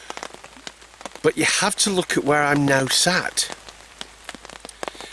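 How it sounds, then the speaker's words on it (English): Rain falling outside a hammock, a steady patter of drops hitting nearby surfaces underneath someone talking close up. "and it's raining right now"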